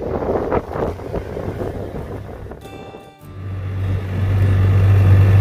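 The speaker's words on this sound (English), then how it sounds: "I got my chauffeur Grayson right here driving the Polaris." A Polaris off-road vehicle rolling along at a resort, its low engine rumble swelling louder toward the end beneath heavy wind buffeting the microphone.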